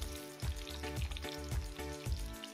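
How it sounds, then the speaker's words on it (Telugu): Cardamom, mace and marathi moggu fry in oil for a jackfruit biryani. A constant soft sizzle runs throughout, with regular rhythmic knocks and scrapes of stirring in the pan, quiet overall. "ఇలాచి, జాజి పువ్వు, మరాఠీ మొగ్గ వేసుకొని ఫ్రై చేసుకున్నాను."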